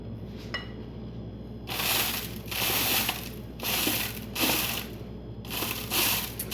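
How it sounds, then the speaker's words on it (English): A glass jar filled with layered dry ingredients for a Christmas gift is shaken in about four rhythmic bursts, a close gritty rattle and hiss of granules against glass, with quiet gaps between shakes. "So we're going to give it a shake."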